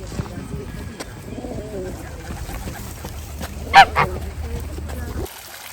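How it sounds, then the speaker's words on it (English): A couple of loud goose honks ring out close by at a garden pond in Italy, amid a busy background of other birds cooing and faint voices. "There were some very friendly geese."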